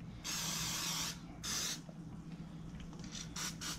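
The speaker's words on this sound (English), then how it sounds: "We're gonna start with the Pam here. Just gonna get a nice little coat here." Pam cooking spray hisses onto a raw chicken in two long bursts, then a few shorter puffs, close and loud against quiet room tone.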